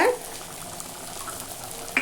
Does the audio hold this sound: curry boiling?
yes